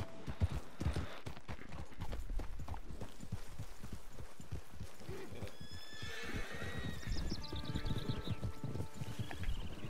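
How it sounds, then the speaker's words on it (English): In the video game Red Dead Online, a steady clip-clop of hooves trotting at a quick rhythm, then a loud horse whinny rising and falling over the hoofbeats. "Get your horse."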